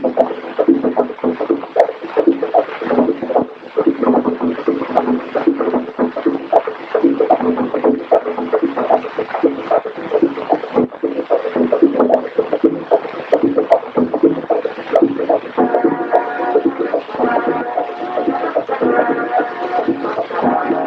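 A medium Army transport boat motors along a canal in the Vietnam Delta, its engine giving a steady, continuous drone with broadband water and wind noise, loud and close throughout, with a faint tonal whine near the end.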